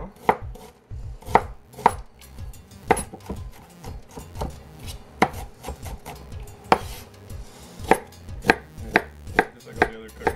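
A knife dices potato, onion and beet on a cutting board for a farmers casserole, striking in quick irregular chops and short bursts, close and fairly loud with no talking.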